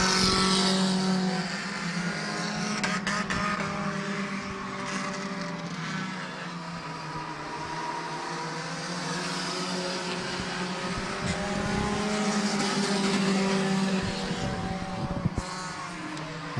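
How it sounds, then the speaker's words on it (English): Race cars roar around the oval at Midvale Speedway, engines droning loud and continuous with rising and falling pitch as the pack passes, a steady mechanical wash with no voices. "Car 90 is really getting sideways coming out of turn 2 over there"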